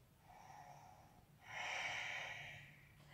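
Ujjayi breathing during a Virabhadrasana 2 warrior yoga pose: a softer, hissing breath is followed by a longer, louder, throaty ocean-like breath, close and without speech.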